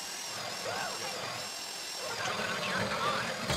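Steady mechanical whine of a drill boring into a safe-deposit box lock during a heist in GTA V, continuous and fairly loud, with a voice talking over it.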